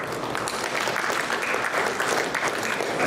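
Many guests at a formal dinner clap continuously in a large room, a dense even wash of applause that holds steady without pause.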